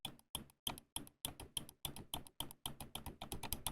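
Sharp, close clicks from a Ninjutso Sora V2 ultra-lightweight 39g gaming mouse, about a dozen presses in a steady, fairly quick rhythm, each crisp and dry, with nothing else heard.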